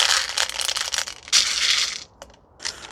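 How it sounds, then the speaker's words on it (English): Airsoft BBs pour out of a speed loader in bursts of dense rattling clatter, close and fairly quiet, with short gaps between pours and a few single clicks. "Just getting the BBs out of this other speed loader I have"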